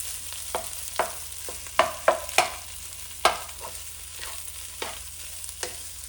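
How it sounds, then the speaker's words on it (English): Potatoes with cumin being stirred in a kadai, a spoon scraping and tapping against the metal pan in a series of distinct clinks and scrapes, close and clear with no talking. "I'm going to give the potatoes a mix."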